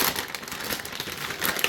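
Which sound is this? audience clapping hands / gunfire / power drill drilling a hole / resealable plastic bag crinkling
resealable plastic bag crinkling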